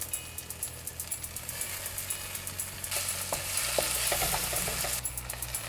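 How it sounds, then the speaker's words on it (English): Chopped onions with curry leaves sautéing in hot oil in a pan, a continuous crackling sizzle with brief stirring scrapes, close and alone without talk. "I'm going to saute the onions for about 2 minutes until they turn light brown."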